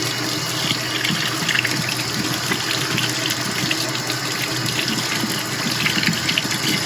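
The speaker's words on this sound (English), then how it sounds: "We'll have to wash it properly." Totapuri mangoes being washed under a running kitchen tap, a steady broadband gush of water splashing over the fruit, close and continuous with no talking.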